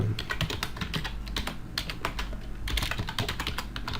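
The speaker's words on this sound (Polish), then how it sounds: "wpisujemy nasz nick" Fast, steady clacking of keys on a computer keyboard as a nickname is typed, close up and continuous for the whole stretch with no voices.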